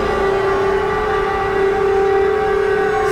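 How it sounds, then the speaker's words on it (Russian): A droning air-raid style siren from the Silent Hill: Alchemilla game wails loudly and continuously, holding a steady tone with layered harmonics throughout. "Сирена сумасшествия."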